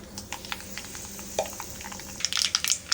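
Mustard seeds sputter and crackle in hot oil in a pan with scattered sharp pops, growing busier and more rapid toward the end, no voices.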